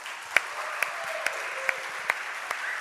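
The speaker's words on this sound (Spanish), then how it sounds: "y pido otro fuerte aplauso, de Rafa Sandoval" Applause from an audience as a steady wash of clapping, with a few louder individual claps standing out.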